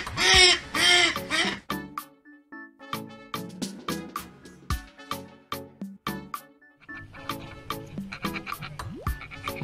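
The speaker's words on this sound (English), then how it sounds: "Ducks." Ducks quack loudly and nasally at first, then a bouncy sequence of short plucked notes and scattered quacks continues in a steady rhythm.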